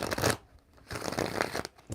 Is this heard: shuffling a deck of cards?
yes